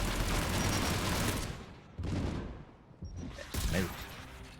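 Gunfire and rocket blasts in the Mass Effect 3 Legendary Edition video game: loud, dense bursts of shooting and explosions in waves, with a short lull before another volley.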